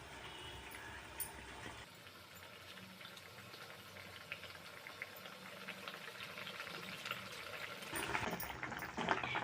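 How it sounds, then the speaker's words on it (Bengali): Raw green banana koftas dropped into a pot of boiling curry gravy give a soft, steady bubbling simmer, close and fairly faint, rising slightly toward the end. "এবার এর মধ্যে কোপ্তাগুলো দিয়ে দেব।"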